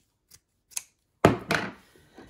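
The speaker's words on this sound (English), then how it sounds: "what I'm gonna do is I'm gonna cut one of those in half" Scissors cutting a felt piece in half, heard as two faint snips followed by two louder, crisp close cuts and a soft rustle, with no talking.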